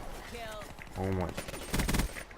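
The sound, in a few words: PPSh submachine gun firing in video game Black Ops 3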